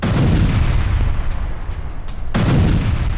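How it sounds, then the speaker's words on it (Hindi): Loud, heavy booming blasts from drone attacks rumble close by at night in Belgorod, easing briefly before surging again. "धमाकों की आवाजें सुनी गई हैं"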